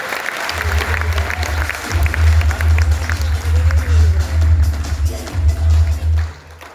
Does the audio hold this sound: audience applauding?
yes